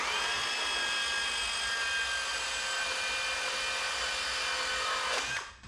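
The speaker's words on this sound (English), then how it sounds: "Got this high-tech saw over here. I'm gonna see if I can cut those levers with it." A power saw whines steadily as it cuts through aluminum motorcycle brake levers for a Kawasaki KX 450F dual caliper install, a continuous high mechanical drone that cuts off abruptly near the end.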